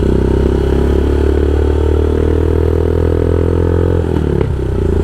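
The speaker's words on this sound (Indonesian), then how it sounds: "di RPM tingginya kencang banget suara knalpotnya." A Royal Enfield Himalayan motorcycle with a custom exhaust roars at high revs, holding a loud, steady droning note that dips briefly near the end.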